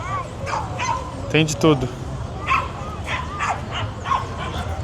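Dogs at a dog fair in Lima, Peru yip, whimper and bark in short repeated bursts at close to middle distance, mixed with people talking nearby.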